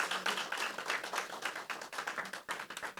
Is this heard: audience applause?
yes